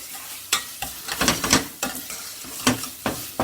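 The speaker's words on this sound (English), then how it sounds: "we cook the tomato puree down because you don't want that raw taste" Tomato puree cooks down in a pot, a soft simmering sizzle broken by several sharp stirring scrapes and spoon knocks at irregular intervals, close and fairly quiet.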